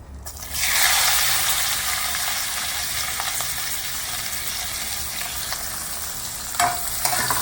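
Onions sizzling steadily in hot oil with whole cumin seeds in a pan for a besan papad curry, a loud continuous fry that starts after a brief quiet moment, with a few stirring scrapes near the end.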